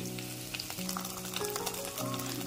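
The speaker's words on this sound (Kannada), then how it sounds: "ಇವಾಗ ಇದಕ್ಕೆ ತಗೊಂಡಿರೋಂಥ ರೆಡ್ ಚಿಲ್ಲಿ ಸಾಸ್ ಸೇರಿಸ್ಕೊತಾ ಇದ್ದೀನಿ." Red chili sauce goes into paneer satay frying in a pan, giving a soft, steady sizzle and crackle with faint stirring, with no speech.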